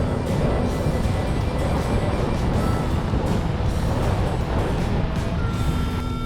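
A Jeep drives past on a narrow Idaho forest trail, making a loud, steady broadband engine and tire rumble that stays close and constant throughout, with no voices.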